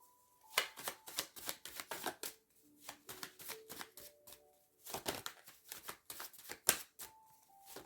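Tarot cards are handled and shuffled in a quiet room, a run of close, crisp flicks and papery riffles in irregular bursts with short pauses between them.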